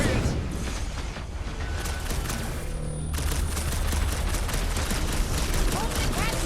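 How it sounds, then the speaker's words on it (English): Guardians of the Galaxy game combat: rapid bursts of blaster gunfire and impacts crackle continuously, loud and close, mixed with effects and character voices. "I'm trying to shoot here!"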